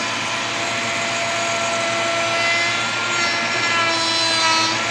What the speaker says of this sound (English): I'm just going to let it carve and knock this thing out real quick